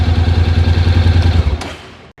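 A Honda NC 750X motorcycle's twin engine idles with a deep, even, pulsing rumble close by, loud for about a second and a half before cutting off and falling quiet.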